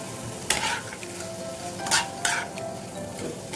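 Fried potatoes tipped into a frying pan of Bengali-style chicken kima mocha, a soft steady sizzle broken by three sharp scraping stirs close by.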